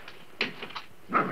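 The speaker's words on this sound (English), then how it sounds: "Upsetting the dog like that this time of night." A dog gives a few short, faint whimpers and yips followed by a brief bark-like whine at night indoors, quiet and isolated with no voices.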